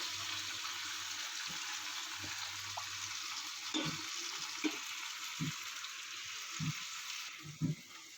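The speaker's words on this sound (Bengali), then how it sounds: "এবার মাংসগুলো ঢেলে দেওয়া হলো" Meat pieces poured into a pan fry with a steady broad sizzle, joined by occasional soft knocks and scrapes from stirring.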